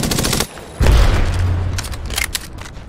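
Video game shootout gunfire with an Arcstar in play: a burst of loud automatic shots, then a heavy booming thud followed by continued rapid firing across the clip, up close and dense.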